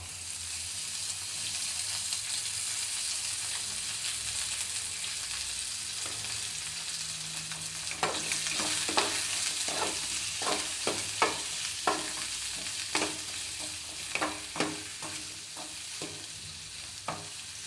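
Brinjal frying in a little oil for a curry: a steady sizzle throughout, then a run of clinking stirs and scrapes in the pan, close and moderately loud.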